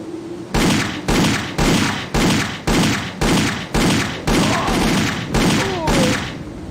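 Gunfire in the video game Indiana Jones and the Infernal Machine on a guarded Tian Shan river level, heard as about eleven loud, regularly spaced bursts, each a sharp onset decaying into rumble, with brief shouted voices in the later bursts.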